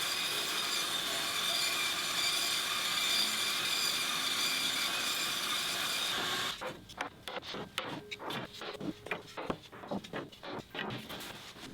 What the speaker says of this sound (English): Now I just needed to cut down a few strips that I could use to make the wavy pieces.